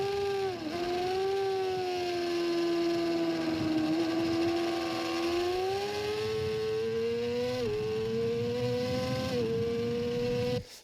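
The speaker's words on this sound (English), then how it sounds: "all the last section, the bike is way too high in the revs" Motorcycle engine screaming at high revs around the TT-Assen circuit, a loud sustained whine that rises and dips with gear changes and corners, continuous and close.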